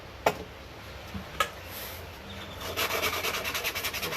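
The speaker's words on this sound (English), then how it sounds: "Use some sticky back 80 grit, and I just take this and fold it in half like a little half circle there." Folded 80-grit sticky-back sandpaper rubs hard over a workpiece, roughing out machine and file marks: a few sharp knocks early, then a run of quick, rhythmic rasping strokes growing louder toward the end, close by with no talk.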